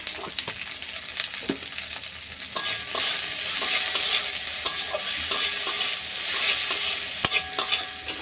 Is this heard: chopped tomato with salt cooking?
yes